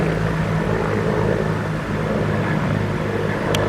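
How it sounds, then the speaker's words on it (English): Helicopter rotor and engine drone added as a background effect over a youth baseball game broadcast, a loud continuous low throbbing hum that stays steady throughout. "Let's add some helicopters in the background here."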